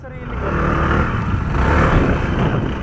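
Honda Click scooter engine revving hard while riding through a water crossing, a loud, steady drone that holds for about three seconds, with voices mixed in underneath.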